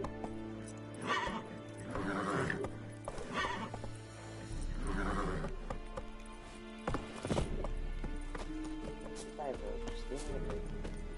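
A horse in The Witcher 3 runs with pounding hoofbeats and snorts, mixed with a loud whinny and some voices talking over the game sounds.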